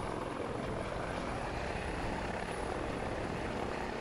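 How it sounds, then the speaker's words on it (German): The red-grey and white DRF rescue helicopter in Landwirtschafts-Simulator 17 flies with a constant, loud, dense rotor and engine roar that holds steady throughout, with no other sounds. "weißen Helikopter."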